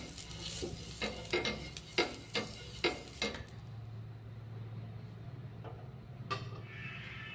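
An onion dipped in oil is rubbed over a hot griddle for jowar flour dosa, giving a run of rhythmic scraping strokes over a soft sizzle, then quieter sizzling with a few faint clinks.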